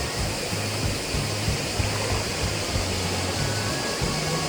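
A canyon stream in Körkün Canyon, Adana, flows steadily with a dense, continuous rush of water close by, heard alone without voices.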